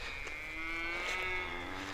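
A bred cow on a farm gives one long, drawn-out low moo, fairly faint and with no talk over it.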